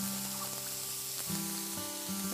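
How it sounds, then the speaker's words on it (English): Ginger and vegetables for cauliflower lentil sprouted fried rice sizzling steadily in a hot pan with oil, a continuous close frying hiss with no talk over it. "just start frying that up"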